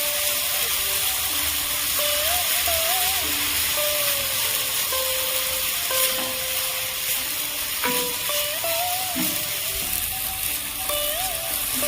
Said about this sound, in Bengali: আলাদা করে পেস্ট করে তেলের মধ্যে ভালো করে ভেজে নেবো